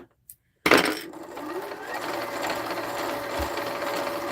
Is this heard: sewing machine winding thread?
yes